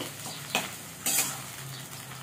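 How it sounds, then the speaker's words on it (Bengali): Chopped onions fry in oil in a home kitchen pan, a soft continuous sizzle broken by two short scraping stirs of a utensil, quiet and close with no voices. "পেঁয়াজটা একটু লাল লাল করে ভেজে নেব।"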